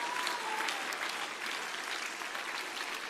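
A Pentecostal church congregation claps continuously, a dense and even wash of many hands sustained at moderate loudness throughout, with no speech standing out.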